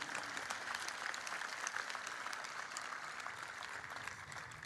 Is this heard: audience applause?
yes